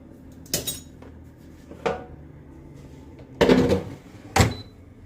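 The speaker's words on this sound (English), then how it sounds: "let's throw this back in the air fryer" Food goes back into a Midea double-basket air fryer in a home kitchen: a handful of separate clattering metal knocks and a sliding basket thunk, close and fairly loud between quiet gaps.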